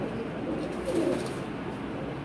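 A pet pigeon gives a soft, low coo near the middle of a short stretch, close by against a steady background hum.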